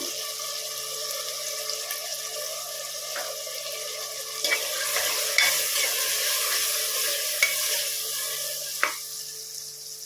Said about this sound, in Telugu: ఒకసారి కలుపుకుందాం. కొంచెం పసుపు వేసుకుందాం.